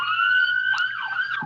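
A police siren wailing steadily at close range, a loud sustained rising and falling tone with no talking over it.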